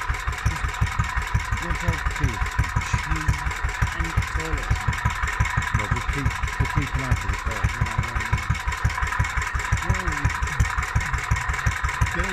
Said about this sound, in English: Sound of the engine.